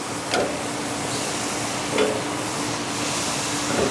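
Thick pork chops glazed with peach preserve, honey, butter and bacon sizzle steadily on a grill, with a few soft scraping bursts as they are turned over.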